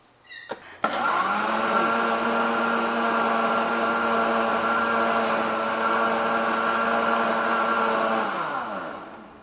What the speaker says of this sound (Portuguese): que nós acabamos de bater ali no liquidificador